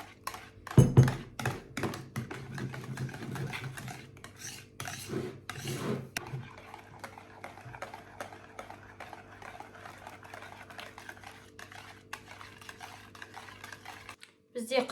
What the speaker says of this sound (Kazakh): Осылай барлығын араластырып шығамыз.